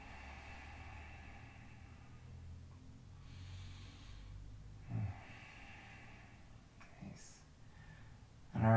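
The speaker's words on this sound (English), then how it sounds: "Just take three heart opening breaths here." Slow, quiet breathing during a yoga heart-opening pose: soft, airy inhales and exhales over a hushed room, with a few sharper sniff-like breaths near the middle and end.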